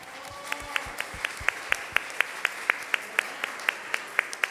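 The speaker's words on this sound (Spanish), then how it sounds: "acompáñenme a darle un aplauso a Carla por su cumpleaños." An audience at a daytime talk claps in a steady, evenly spaced rhythm, the sharp claps ringing out one after another in a quiet room.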